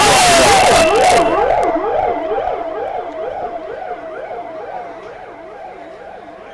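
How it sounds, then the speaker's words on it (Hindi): An ambulance siren wails in a steady up-and-down cycle as it arrives slowly through a cordoned rescue site, loud and close with a burst of noise at the start, then gradually fading as it passes. "एम्बुलेंस का सायरन जो है वो बजता हुआ यहाँ पर पहुँच रहा है धीरे धीरे"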